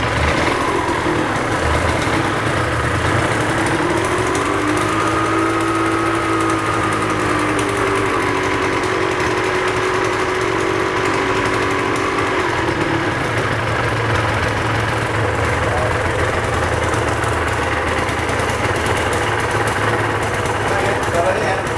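A Suzuki RGV 250 VJ21 two-stroke motorcycle idling, a steady buzzy drone held at a constant level, heard close while people talk over it.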